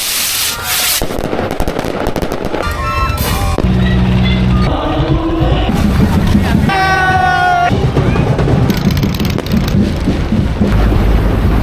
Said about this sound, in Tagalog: Ayan po, umulan na.